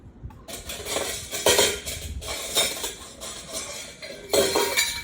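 Small metal spoons clink and scrape against dishes while scooping oatmeal for turmeric and honey cold-process soap, a run of close, bright taps and rattles in irregular bursts, with no talk.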